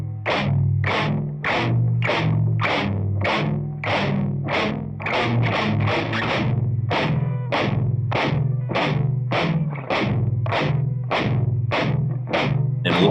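Four heavily distorted guitar notes, reamped together, chug in a steady pulsing rhythm of short repeated stabs over a low A in a rock arrangement of Lili Boulanger's Psaume CXXIX, loud and continuous.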